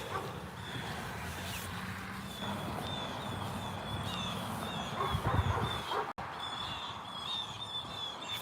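Birds call repeatedly near a nest outdoors, crow-like caws at moderate distance over steady wind and ambient noise, with a faint dog sound mixed in.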